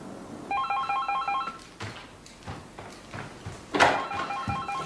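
A telephone rings in a law office with two distinct bursts of electronic trilling warble, the second louder and closer, separated by a stretch of quieter room noise.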